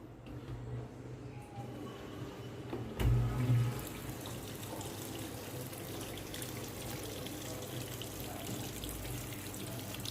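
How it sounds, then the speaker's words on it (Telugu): Thin, weak stream of tap water running steadily into a Samsung washing machine through its inlet, a low continuous hiss with a brief louder gush near the start, heard alone. "వాటర్ చూసారా చాలా సన్నగా వస్తుంది"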